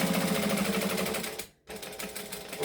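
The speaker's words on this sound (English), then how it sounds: "We're going to stitch underneath it." A sewing machine stitching underneath the pocket of a penny pouch bag, a fast steady mechanical whir of needle strokes, close and continuous, with a brief stop just past the middle before it resumes.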